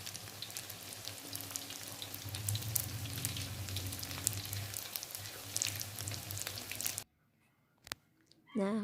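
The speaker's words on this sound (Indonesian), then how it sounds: "Di sini saya menggorengnya sampai kering." Bakso meatballs are deep-fried in oil until dry, giving a busy, crackling sizzle for several seconds that cuts off abruptly into near silence, followed by a brief knock.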